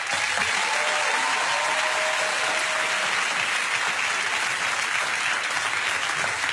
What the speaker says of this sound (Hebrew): תנו לו מחיאות כפיים.